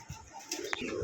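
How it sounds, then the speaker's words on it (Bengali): Pakistani Siraji pigeons kept for sale. One coos faintly and briefly against a low background hum. "এখানে আরো এক জোড়া কবুতর আছে"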